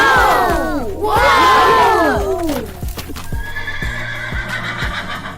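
A horse gives two loud, close whinnies, then hooves clip-clop in a slow, even rhythm as the neighing fades, with crowd-like noise in the background.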